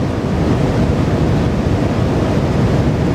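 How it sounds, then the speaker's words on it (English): Water rushes continuously in front of a float tube moving across a river during a fishing trip, a loud, close, steady whooshing mixed with wind buffeting the microphone. "just the whooshing of the water in front of the boat, really"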